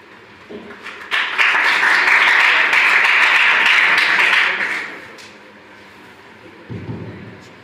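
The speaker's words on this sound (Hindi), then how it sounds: "जोरदार ताली" Loud applause from an audience at a memorial seminar for Dr. Hukamchand Bharill, swelling quickly, holding steady for several seconds, then fading out, with a low rumble near the end.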